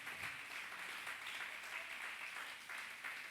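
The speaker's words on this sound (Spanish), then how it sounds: "Dele una ofrenda de palmas al Señor" A church congregation applauding as an offering to the Lord, steady dense clapping that fills the room throughout, with faint voices underneath.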